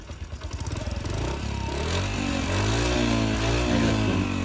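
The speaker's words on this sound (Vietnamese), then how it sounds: "Nổ máy phát nha" A 1994 Honda Super Cub 50 motorcycle engine sputters into life up close with a few uneven pops, then settles into a steady, loud, buzzing idle.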